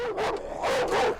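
Adult dogs in a dirty back garden giving two short bursts of whining, yelping barks with a whimpering edge, close and fairly clear.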